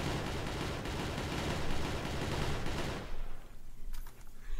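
Rapid, sustained gunfire in the Minecraft video game forms a dense, loud barrage for about three seconds. It then cuts off, leaving quieter scattered noise.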